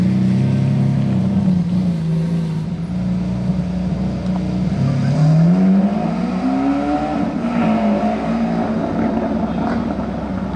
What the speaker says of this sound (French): Très sympa comme ça, la F12, elle passe bien.